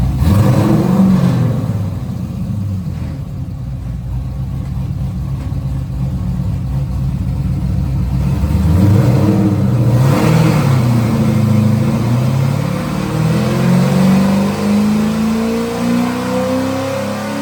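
A Polaris RZR side-by-side engine revs hard on a dyno pull, loud and close, its pitch climbing steadily through a long sustained run with no talking over it.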